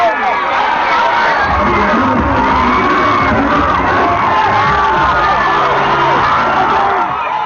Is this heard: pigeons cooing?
no